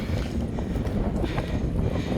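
Wind buffets the microphone outdoors at the Qarn al-Manazil miqat in As-Sayl al-Kabir, a continuous low rumbling roar with gusty swells, no other sound standing out.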